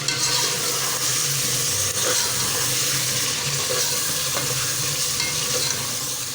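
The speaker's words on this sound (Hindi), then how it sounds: "पानी डाल रहे हैं, अच्छे से फ्राई हो गया है।" Water is poured into chicken meat frying with spices for biryani, giving a loud, continuous sizzle and hiss with rushing liquid, close up and steady throughout.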